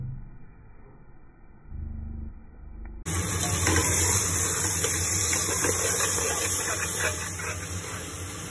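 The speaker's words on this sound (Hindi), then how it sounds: "पानी डाल रहे हैं," Water is poured into a pot of cauliflower cooking for dum gobi masaledar, a loud, steady rushing splash that starts abruptly partway through after a quieter kitchen hum, then holds strong to the end.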